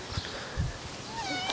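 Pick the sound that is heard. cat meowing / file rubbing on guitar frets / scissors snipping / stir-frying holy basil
cat meowing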